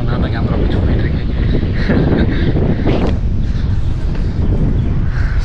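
Strong wind buffets the microphone on a hilltop during a first drone flight, a loud, constant roaring rumble that never lets up, with a voice faintly buried underneath.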